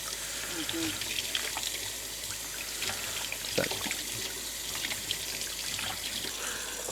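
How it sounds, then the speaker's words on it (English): Running water rinsing homemade butter to wash out the buttermilk, a steady close trickle with small splashes and clinks throughout. "So we gotta rinse it, get all the buttermilk out of it, or else it'll go bad quick."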